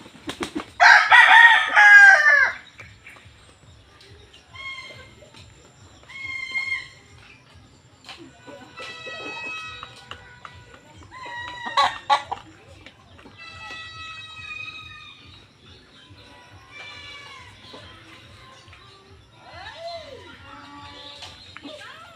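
Pet chickens feeding in a backyard coop crow and cluck, with a loud rooster crow at the start, then repeated clucks and calls at a moderate distance over a low steady hum.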